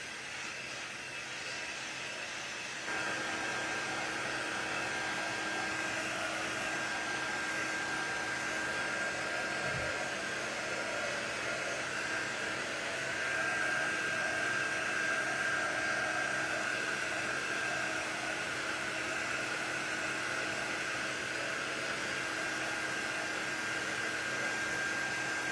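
A quick dry tool blowing a steady, loud, close rush of air to dry the bottom of a painted football door decoration, running continuously with a slight rise in pitch partway through.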